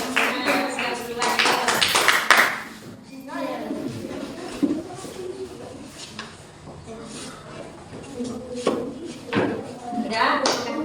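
Classroom of fifth-grade pupils clapping for group 1, a loud burst of hand claps at the start that quickly dies away, followed by talk, shuffling and scattered taps around the room.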